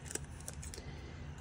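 Scissors snip off small bits of a cut-out paper letter, a few quiet crisp clicks close up over low room hum.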